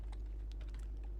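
A Vim command is typed on a computer keyboard in a Kali Linux terminal, giving a quick run of soft, light keystroke clicks over a low, steady hum.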